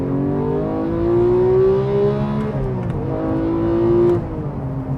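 A 2018 Porsche 911 GT3 with a manual transmission revs its engine hard toward nearly 9,000 RPM on a straightaway, a loud rising wail that holds at the top, then drops off sharply as the throttle lifts.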